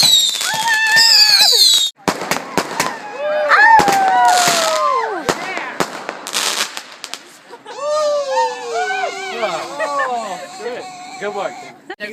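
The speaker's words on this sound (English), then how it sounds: "This huge firework is called End of the World" A huge firework called End of the World bursts in a rapid string of crackling bangs, loud and close, while excited voices shout and scream throughout.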